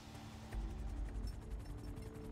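A helicopter in a video game drones as a low steady rumble with a faint rapid rotor flutter, quiet and constant throughout.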